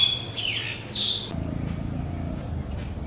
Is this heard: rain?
no